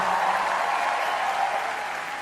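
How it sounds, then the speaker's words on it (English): An audience at a comedy roast event claps steadily in dense, sustained applause that fades slightly toward the end. "Round of applause for Ranveer Arjun."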